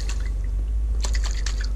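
Lemon juice sloshes inside a closed container as it is shaken, a steady wet churning with a burst of splashy, rattling liquid movement toward the end, close and fairly loud, no voices.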